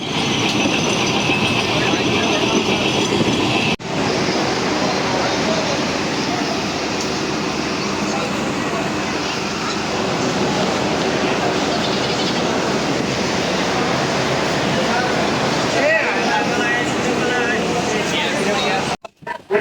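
The Rupsha Express running from Saidpur toward Khulna, heard from inside as a loud, steady rumble of wheels and carriage noise with faint clatter throughout, continuing almost unbroken to the end.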